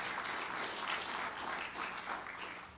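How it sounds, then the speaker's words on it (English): Dense, continuous audience applause at a Veterans Day ceremony fills the whole stretch, close and even before easing slightly at the end. "give yourselves another rousing round of applause for this great day"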